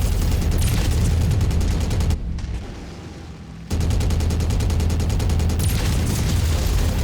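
Rapid, loud mech weapon fire from a MechWarrior battle with Thunderbolt mechs, dense bursts running continuously, then a short lull and a return to sustained close firing.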